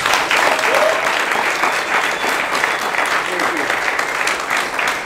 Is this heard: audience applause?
yes